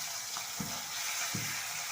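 Fish fries in a hot pan with a steady, close hiss of oil, broken twice by short low knocks as the pieces are stirred or shifted; no voices.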